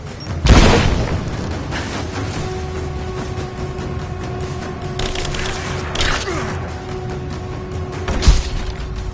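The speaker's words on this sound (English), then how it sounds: "Throwing a grenade!" A grenade goes off in a heavy boom near the start of a firefight in the video game Rise of the Tomb Raider, followed by mechanical creaks and clanks and further sharp bursts later on.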